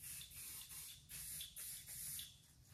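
Spray paint is misted lightly onto a sign to create a fog effect, heard as a rapid series of short, soft hissing bursts close by, with no voices.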